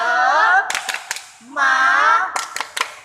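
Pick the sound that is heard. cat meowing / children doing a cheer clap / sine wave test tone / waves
children doing a cheer clap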